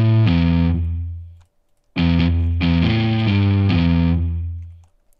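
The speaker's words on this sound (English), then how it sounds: "And then the neck pickup alone." Sampled electric guitar played on the neck pickup alone with a driven, effects-laden tone: one sustained chord that rings out and fades, then a short run of chords that decays. Loud and close, with no voices.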